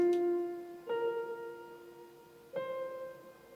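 Three sustained minor chords played on a keyboard one after another, each struck cleanly and left to ring and fade, spaced about a second and a half apart.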